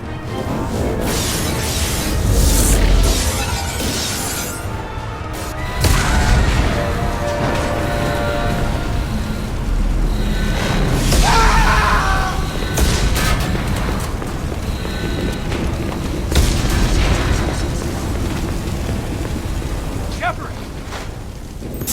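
Explosions and hull breaches rock a spaceship in the video game Mass Effect 2, with repeated heavy booms and crashing rumbles rising and falling over the whole stretch, mixed with voices and game sounds.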